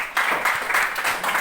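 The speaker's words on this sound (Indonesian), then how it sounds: "berikan tepuk tangan untuk kelompok 1" Classmates in a school classroom give a student group a short burst of applause, dense hand clapping that stays fairly even for about a second and a half.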